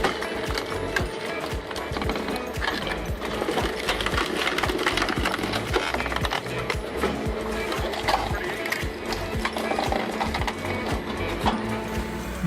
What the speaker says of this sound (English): Every time I witness a firewood processing machine in action